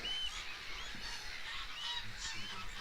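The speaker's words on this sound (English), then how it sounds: "Also got grey lag geese as well." Distant greylag geese honking now and then over a steady outdoor background hiss at Snettisham, faint and spread across the open air.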